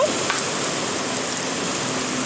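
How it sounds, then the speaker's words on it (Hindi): Steady rain pours down outdoors in Delhi, a continuous dense hiss of drops with no pauses, close and fairly loud throughout. "घर से निकले और फिर बारिश हो गई।"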